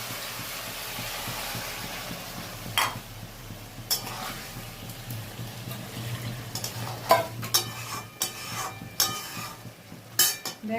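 Potato curry (aloo dum) sizzles steadily in a pan after water is added, a soft continuous frying hiss broken by a few sharp clinks and scrapes of a spoon against the pot.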